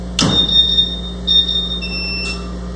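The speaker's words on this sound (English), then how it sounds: "you can hear how it'll give me an alarm, and then you can hear the water chiller fire up" A commercial laser cutter sounds its alarm with steady high electronic beeps as its water chiller starts, bringing a burst of noise and then a constant hum underneath, all close and fairly loud.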